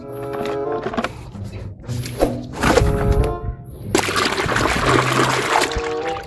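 Water trickles and splashes while muddy toy vehicles such as a long tanker truck and a cement mixer are scrubbed clean, with intermittent pours and knocks of plastic, growing louder and more continuous toward the end.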